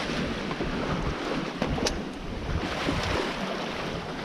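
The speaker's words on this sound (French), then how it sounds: "une grosse houle là qui nous freine un peu" Heavy sea swell rushing against a Mini 650 sailboat at sea, a steady loud wash of water and wind noise with a few faint knocks from the hull.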